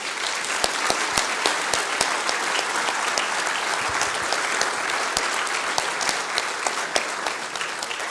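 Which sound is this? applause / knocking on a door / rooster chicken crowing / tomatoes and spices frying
applause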